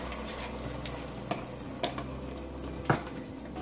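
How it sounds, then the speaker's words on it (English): Eggs cooking over medium heat in a pan sprayed with cooking spray, giving a faint, soft sizzle broken by a few light clicks of a utensil against the pan. "to cook our eggs, we're gonna go ahead and put them for medium heat"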